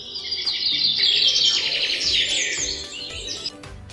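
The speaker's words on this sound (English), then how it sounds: "What sound does a bird make? Yes, chirp, chirp," Small birds chirp and tweet in rapid, continuous high-pitched calls, fairly close and clear, fading slightly toward the end with no talking.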